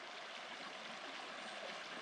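Soft, steady rush of creek water flowing beside the Grand Portage Trail in Minnesota, a faint continuous burble with no voices.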